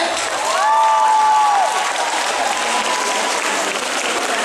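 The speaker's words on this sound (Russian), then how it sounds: "Аплодисменты, друзья!" Audience applause at a Chuvash dance contest, a dense steady wash of clapping from a crowd, with a few brief shouts or whistles rising over it near the start.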